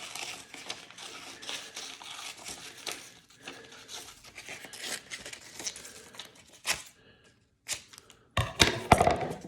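Scissors free-cutting a paper shape produce close, irregular snips and crinkles of paper, quiet and intermittent, with a few louder crumpling handling noises toward the end.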